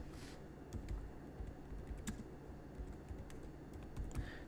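Typing on a computer keyboard, with irregular close key clicks and taps over a quiet room background and no speech.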